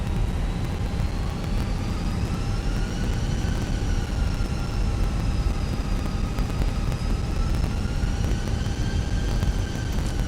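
A Microsoft Flight Simulator 2020 airliner taxiing on the ground makes a steady, loud jet engine drone with a whining tone that rises and falls slightly as it turns and speeds up.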